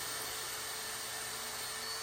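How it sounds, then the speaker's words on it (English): A steady, high-pitched whine of a lathe tool grinding wax off a resin and apple wood turning, hissing continuously at an even level with no pauses and no voices. "Here I'm going to grind off that wax that prevented the resin from sticking."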